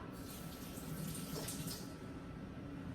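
Apples and tomatoes are rinsed under a running kitchen tap, giving a steady, close, continuous rush of water with no talking.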